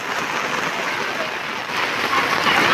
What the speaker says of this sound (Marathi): आहे कसा बघा कोकणातला पाऊस